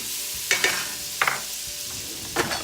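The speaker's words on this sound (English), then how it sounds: "add my melted butter and flour and whisk it together and cook it for about 3 to 4 minutes." A whisk stirs melted butter and flour in a pot for a broccoli cheddar soup roux, making three quick scraping, rasping strokes against the metal over a soft sizzling background.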